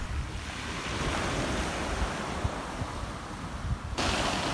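Sea surf breaking steadily on a beach in Aigialeia, Greece, where erosion has eaten away the sand and trees, a continuous wash of waves with gusty wind buffeting the microphone.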